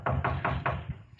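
Four quick, firm knocks on a door land in an even rhythm, close and clear, with no voices.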